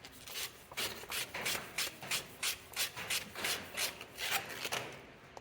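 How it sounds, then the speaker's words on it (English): 220 grit sandpaper rubs back and forth over copper pipe in about a dozen even, rhythmic strokes, close and moderately quiet. "I just have some 220 grit sandpaper here"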